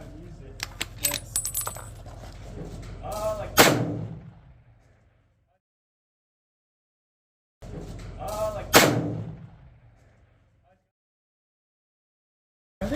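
Two loud rifle shots are fired at targets 1000 yards away, about five seconds apart. Each sharp crack has a short rolling echo, and small mechanical clicks come before the first shot.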